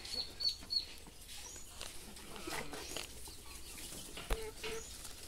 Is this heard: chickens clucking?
yes